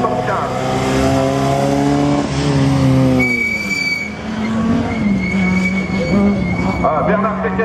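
A race car engine revs through a slalom course, its pitch rising and falling with gear changes and tire squeal; loud and steady throughout, with a commentator talking over it.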